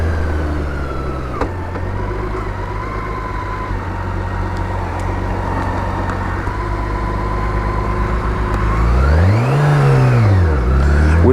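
A 360-kilo BMW K1600 GTL touring motorcycle's six-cylinder engine hums steadily under load at close range, then revs up sharply and falls back near the end.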